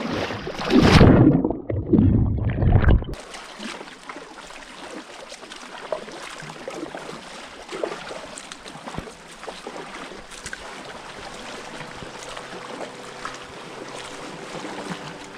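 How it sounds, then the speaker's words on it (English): Kayak paddling along the Dalmatian coast on a hot September day beneath massive cliffs, with soft steady water swish and lapping throughout after a louder, closer burst of splashing and movement at the start. "As I paddled along the coast toward Podobuce"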